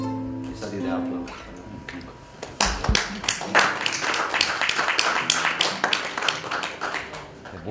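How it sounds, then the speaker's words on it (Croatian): Applause from an audience at a literary evening in a cultural centre hall, a dense run of clapping that swells and carries on steadily, rising out of a voice speaking before it. "I sad ide aplauz."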